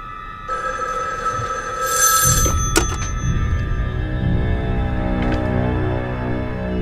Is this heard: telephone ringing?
yes